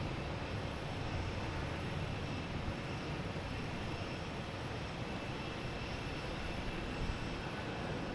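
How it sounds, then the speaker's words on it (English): A JetBlue Airbus A321neo jet airliner bound for Las Vegas at Boston Logan produces a steady, fairly faint broadband engine roar that holds evenly throughout, with no voices. "We have JetBlue heading to Las Vegas."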